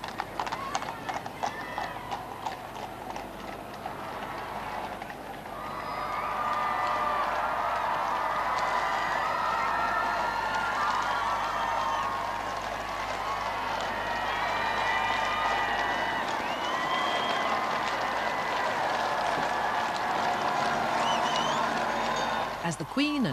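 Horse hooves clip-clop steadily through a grand outdoor procession, with a crowd cheering and applauding throughout and a voice talking over the scene.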